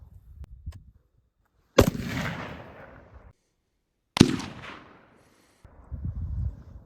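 Two sharp rifle shots from an AR-15 fitted with a suppressor, spaced a couple of seconds apart, each a loud crack with a decaying tail, with faint handling noise between them.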